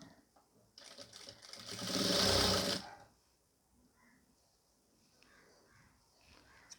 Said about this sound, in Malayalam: ഇതേപോലെ വെച്ച് കൊടുത്തിട്ട് നമുക്കൊന്ന് സ്റ്റിച്ച് ചെയ്ത് കൊടുക്കാം